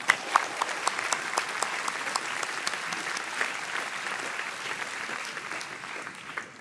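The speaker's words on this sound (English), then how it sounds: "Let's give them a round of applause." Commencement audience at a school graduation ceremony applauding steadily, a dense wash of many hands clapping at an even level from start to finish, with no speech over it.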